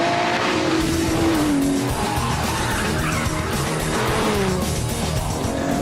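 Aston Martin DBS driven hard around a handling circuit, its engine roaring loud and close for several seconds, revs rising and falling through gear changes with tyre squeal and skidding mixed in.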